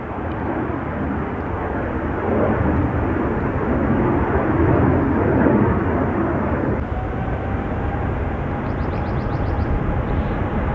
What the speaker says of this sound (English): an exec jet that took about 2 feet of runway to get going.